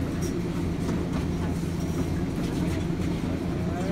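The Denver International Airport terminal train rumbles steadily as it travels between terminals, a continuous low drone of rolling wheels and motor heard from inside the car, with no voices.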